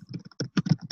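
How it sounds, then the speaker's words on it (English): Someone types on a computer keyboard during an online community call, a quick irregular run of close, sharp clicks and taps with short pauses between bursts. "Whoever is typing, if they could mute,"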